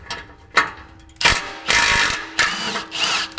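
Powered ratchet or impact tool running a bolt on a Chevy Colorado ZR2 during a Flowmaster FlowFX exhaust install, with several bursts of loud mechanical clicking and whirring, the longer runs coming after a brief opening pulse.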